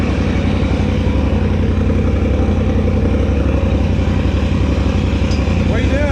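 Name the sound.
Polaris RZR engine revving to check RPMs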